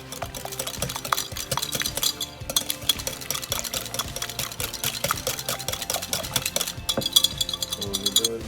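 A whisk beats vanilla extract and cinnamon into a batter with quick, steady clicking strokes against the bowl, close and continuous throughout.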